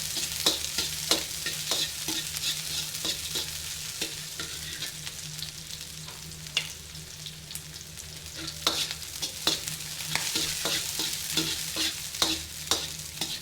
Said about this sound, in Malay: Kita kena goreng bawang kita dulu ya.